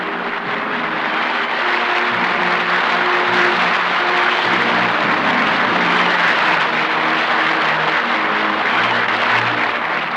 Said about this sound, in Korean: 모두 일어서서 환영의 박수를 보냈습니다